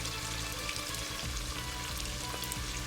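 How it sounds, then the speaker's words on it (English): Onions frying in oil with Scotch bonnet pepper and garlic for a chicken stir-fry, making a steady, soft sizzle that runs alone without talking. "let it fry for about another 30 seconds or 1 minute until it's translucent"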